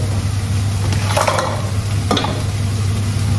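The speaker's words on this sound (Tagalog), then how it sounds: "lagyan natin siya ng pinagkuluan kahapon" Sisig made from pork sizzles loudly in a hot pan as yesterday's pork broth is added. The frying hiss runs steadily throughout, with a couple of short stirring scrapes partway through and no one talking.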